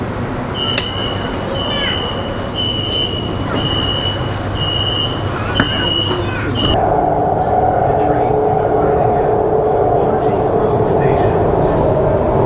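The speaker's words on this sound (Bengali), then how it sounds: "এটা হচ্ছে চায়নার মেট্রো" Metro train ride in Guangzhou, China: loud continuous rumble of the carriage on the rails with a repeating high electronic tone, then a shift to a steadier whine and hum as the train runs on.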